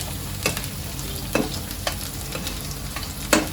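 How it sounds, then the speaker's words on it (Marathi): Green chillies and other ingredients for Maharashtrian sabudana khichdi sauté in hot oil, giving a steady close sizzle broken by several sharp scrapes and knocks of a stirring spoon against the pan. "तेलामध्ये चांगलं सगळ्यांना मी परतून घेते"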